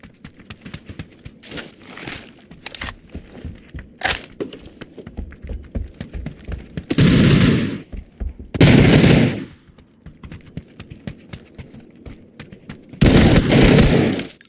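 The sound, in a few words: gunfire in the video game PUBG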